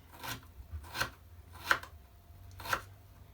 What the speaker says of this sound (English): Gonna cut up this ginger really small.